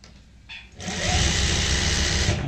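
A sewing machine stitches a pillow cover: after a brief faint whir, the motor starts up and runs steadily and loudly, close by.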